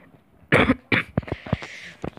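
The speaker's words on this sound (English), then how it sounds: "Don't cough on me." Two sharp, close coughs in quick succession, followed by a few softer throat-clearing huffs.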